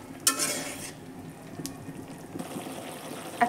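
Fish curry is stirred gently in a pan with water just added, giving soft scraping and sloshing over a quiet sizzle, with a couple of brighter splashy clinks and no voices.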